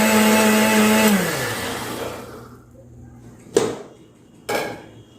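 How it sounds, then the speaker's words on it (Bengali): A kitchen mixer whirs loudly while blending milk, sugar and Oreo biscuits into a milkshake, then winds down and stops, followed by two sharp clunks of the jar or lid. "দিয়ে আমি এটাকে আবার মিক্সারে ফেটিয়ে নিয়ে আসি।"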